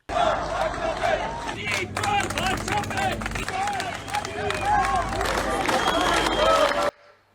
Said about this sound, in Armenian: ներկա հազարավոր քաղաքացիներ ծափահարություններով ու Նիկոլ վարչապետ վանկարկելով